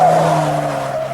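Car labouring up a steep timed hill climb, a steady strained engine drone with a sustained tyre-like whine, close and fairly loud, no talk.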